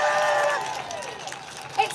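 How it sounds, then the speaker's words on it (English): Crowd at a women's rally in Melbourne cheers and whoops loudly, the roar fading after half a second into softer scattered voices and a few claps. "I want you to give yourselves a massive cheer"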